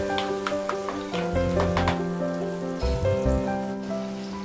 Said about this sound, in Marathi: तेल गरम झाल्यानंतर त्यामध्ये आपण बारीक चिरलेला कांदा टाकून घेणार आहोत, त्यानंतर बारीक चिरलेला टोमॅटो पण टाकून घेणार आहोत